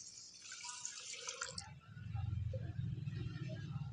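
Water pours into a pot of washed rice set on a stove for kheer, a bright splashing pour for about a second and a half that gives way to a steady low rumble close by.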